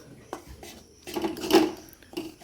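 Gram flour and flour peda mixture stirred in a pan, giving a few scraping and knocking utensil sounds that come in irregular bursts and build toward a louder scrape, fairly close and with no talk.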